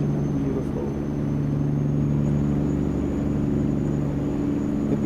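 A Kenworth W900 truck hauling a super heavy load in American Truck Simulator gives a steady, deep engine drone with a constant low rumble and a faint high whine throughout.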